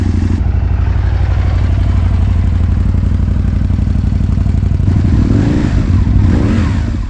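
A repaired motorcycle engine runs steadily and loudly after fresh fuel is added, with a dense low rumble and a clattering mechanical edge, rising slightly in a brief rev near the end.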